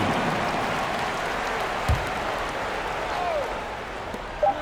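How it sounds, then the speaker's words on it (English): Distant crowd applause and cheering for a dance team fill a large basketball arena in NBA 2K23, with a few brief louder thumps rising through the steady roar. "Please give a big round of applause for your dance team."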